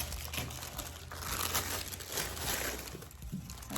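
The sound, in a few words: crinkling paper stuffing for a gift basket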